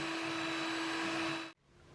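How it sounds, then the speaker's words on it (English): Egg whites being beaten until frothy for royal icing, a steady motorized whir that runs without a break for about a second and a half, then cuts off abruptly. "First, beat the egg whites until they turn frothy."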